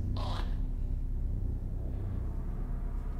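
Spaceship engines run in a video game as a low, steady rumbling drone, with a short brighter scrape-like burst near the start before the hum settles and continues evenly.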